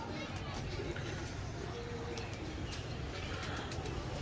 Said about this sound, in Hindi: तीन चार साल पुराना कबूतर है।